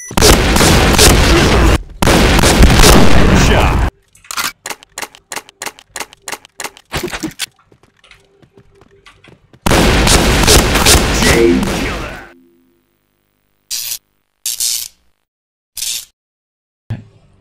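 Gunfire and a grenade explosion in the Point Blank shooter game, a loud roaring blast followed by a sharp sequence of rapid separate gunshots, a second long blast, then scattered short bursts with quiet gaps.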